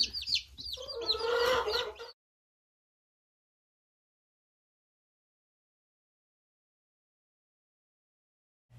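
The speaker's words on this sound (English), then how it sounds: "we got baby chicks only a few days from Easter, so they're little Easter chicks" A short burst of chirping and clucking from baby chicks kept a few days before Easter, close and lively for about two seconds, then silence.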